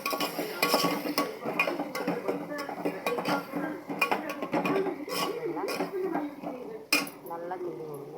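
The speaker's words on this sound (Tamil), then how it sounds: "நல்லா கிண்டி விடுங்க." Onions and tomatoes being stirred in a cooking pan, a spoon scraping and clinking against metal in quick irregular strokes with sizzling underneath, close and continuous, with a voice faintly in the background.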